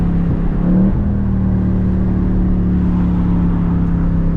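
Steady low engine drone from a 2024 Ford Mustang GT V8 while driving at night, a brief swell near the start suggesting a throttle blip, then a constant rumble with road noise and no talk.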